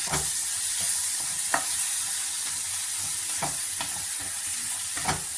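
Brinjal, tomato, coriander and mint sautéing in a pan for chutney: a steady, loud sizzle throughout, broken by a few sharp spatula scrapes and stirs at irregular intervals, with no talking.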